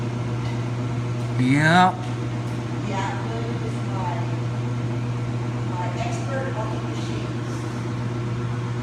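A Speed Queen top-load washer spins, producing a steady, continuous mechanical hum with a strong low drone that holds throughout; a voice speaks briefly near the start.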